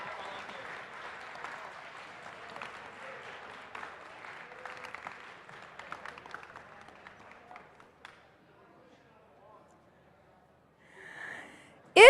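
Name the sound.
audience applause at robotics tournament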